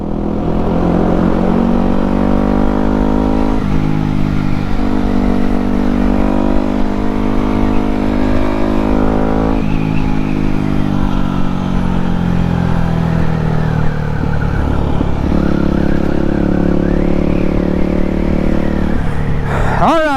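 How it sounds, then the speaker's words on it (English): A Yamaha WR250X supermoto motorcycle engine revs and idles close by, its pitch rising and falling in repeated bursts with dense harmonics for about twenty seconds, loud and steady with no talk. "Man, this is doing so much better."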